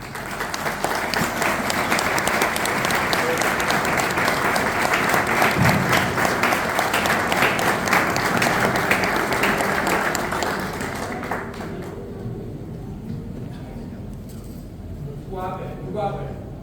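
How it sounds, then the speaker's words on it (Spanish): Loud, sustained audience applause at an award ceremony for Paraguayan art and culture at the Palacio Barolo in Buenos Aires, lasting about eleven seconds before dying away as a voice begins speaking. "Le brindamos un fuerte aplauso, doña Margarita Franco"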